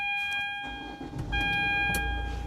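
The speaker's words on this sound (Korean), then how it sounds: "어, 시동 한번 걸어보도록 하겠습니다." A SsangYong Korando C compact SUV starts with a push-button smart key: a short electronic chime, then a brief crank that catches into a near, steady engine idle, with no talk over it.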